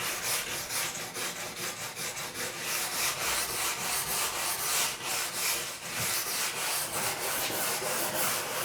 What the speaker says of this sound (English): that's with your brass brush